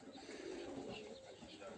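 Racing pigeons being released coo softly in a low, faint murmur, a steady muffled bird burble with a little background noise.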